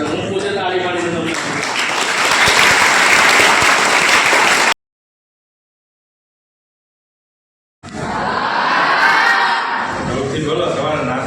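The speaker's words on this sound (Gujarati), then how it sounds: "ત્યારે હું પોતે તાળી પાડીને તમને" Guests and students at a school event held by Jambusar police applaud, with dense, loud crowd clapping in two bursts separated by a few seconds of silence.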